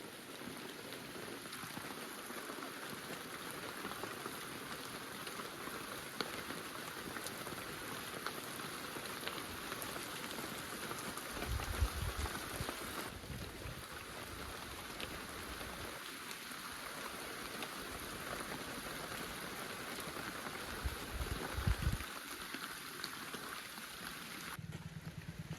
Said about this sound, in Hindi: बारिश, हल्की हल्की बारिश।